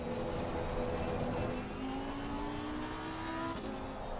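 A V10 race car engine in a sim racing game at Spa, loud and continuous, its pitch climbing steadily through the gears with a brief shift near the end.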